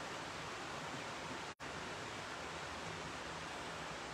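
A river flows steadily in a quiet nature park, a continuous broadband rush of water that holds even throughout, with no voices heard.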